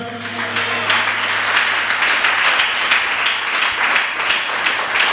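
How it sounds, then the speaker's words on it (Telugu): A church congregation claps loudly during a sermon, a dense, continuous wash of applause that holds steady throughout, with a faint low hum under the opening moments. "చప్పట్లు కొట్టండి గట్టిగా."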